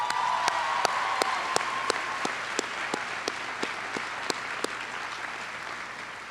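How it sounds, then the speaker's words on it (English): Graduation ceremony crowd applauding steadily for the whole stretch, a dense wash of many hands with sharper individual claps popping out near the front; no talking over it. "we also did not give Gina Gale a round of applause also"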